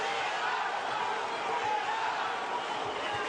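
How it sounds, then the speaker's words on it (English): Boxing arena crowd at the Firat Arslan vs Marco Huck fight, a steady loud wash of cheering and murmuring voices urging Huck on, continuous with no breaks. "Crowd trying to raise Huck"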